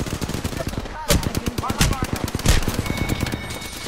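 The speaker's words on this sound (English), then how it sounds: "Getting shot at." Automatic gunfire in Apex Legends, rapid sharp shots in quick bursts with a few louder cracks, close and dense over the game soundscape.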